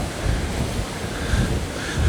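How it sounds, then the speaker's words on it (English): Choppy waves wash in at a windy Fort Lauderdale beach, a steady rushing roar mixed with gusty wind buffeting the microphone. "It is windy, so we're gonna probably see some choppy waves"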